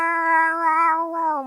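A voice imitates an old cat yowling on a fence, a single drawn-out, wavering meow-like wail with rising and falling pitch, close and clear with no other sound.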